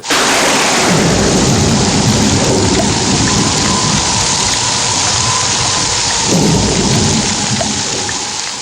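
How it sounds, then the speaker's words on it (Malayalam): Heavy, continuous rain pours down while deep thunder rumbles through, loud and close, with no voices. "താമസിയാതെ ഇടിവെട്ടോടുകൂടി മഴ പെയ്തു."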